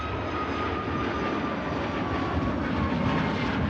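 A jet airliner rotates and climbs away from Manchester Airport, a steady, broad engine roar with a faint whine held at constant loudness throughout, heard from nearby with no voices.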